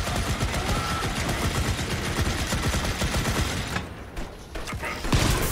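Sustained rapid gunfire in the Volcanoids video game, a dense automatic barrage rattling loudly for several seconds, with a short lull before a final burst.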